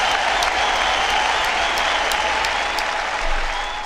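A studio audience at a live tech show bursts into loud, dense applause that continues evenly for a few seconds and then begins to taper off.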